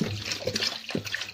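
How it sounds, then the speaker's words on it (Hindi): Water poured into a pressure cooker holding mutton for kabuli palao, a close, steady trickling splash lasting about a second, with a brief low clunk near the end. "तो ये मैंने इसमें पानी डाल दिया है।"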